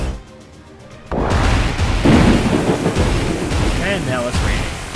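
Rain and a heavy thunder crash in a steamship video game, a quiet start giving way to a loud sustained rumble with broadband rain noise.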